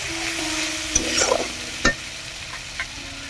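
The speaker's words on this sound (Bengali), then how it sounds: "দিয়ে এটাকে কষাতে থাকবো" Tengra fish sautéing with turmeric and spices in a pan, a dense close sizzle with a few scraping stirs and one sharp knock of the spoon, steady throughout with no talking.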